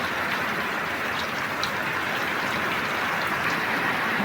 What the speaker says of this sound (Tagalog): Diba ang lakas ng ulan.